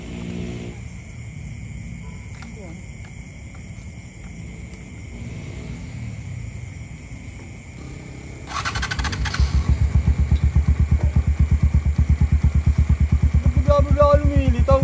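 A 10,000cc big bike motorcycle that has stalled on the road sits quietly, then its engine catches and settles into a loud, steady, pulsing idle rumble close by.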